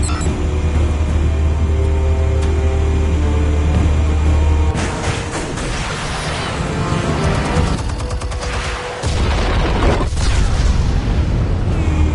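Explosives detonate in Batman: The Telltale Series, a loud rumbling blast breaking a steady low drone, followed by crackling debris and a second heavy impact before the hum returns.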